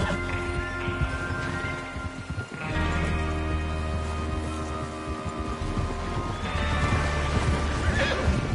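Horses gallop in Red Dead Redemption 2 with rapid, continuous hoofbeats, and loud whinnies and neighs break through repeatedly over the drumming hooves.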